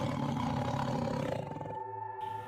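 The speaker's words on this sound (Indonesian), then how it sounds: "Sambil mengeluarkan suara geraman dan auman seperti harimau." A deep, tiger-like growl swelling into a loud, sustained roar, close and rough-edged, that thins out and fades near the end.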